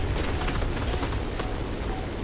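Dense, rumbling battle explosions from a World of Warships naval fight involving HMS Hood, a continuous booming barrage with sharp bursts layered over each other, loud and close throughout.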